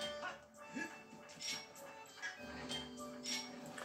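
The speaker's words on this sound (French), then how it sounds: "Petit chien là." Small dog whimpering and yipping in The Legend of Zelda: Skyward Sword video game, a run of thin, high whines and short yips over game music and ambience.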